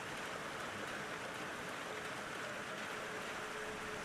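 Steady rushing water from a waterfall in the video game Elden Ring, a constant broadband wash at low level with no breaks and no talking.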